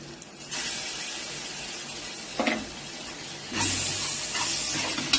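Ginger-garlic paste drops into a pan of frying onions for squid gravy and sizzles loudly and steadily up close, the hiss swelling again partway through as it is stirred.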